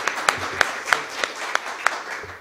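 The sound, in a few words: audience applause for the doctors at a law congress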